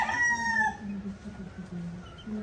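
Broiler chicks and chickens on a small farm during the rainy season, with a rooster crowing at the start, followed by soft clucking and chick peeps, fairly quiet and close.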